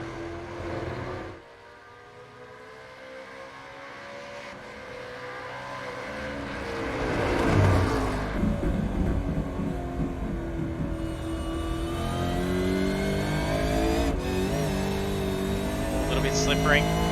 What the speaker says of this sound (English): Falcon hunting down that Commodore across the top of the mountain.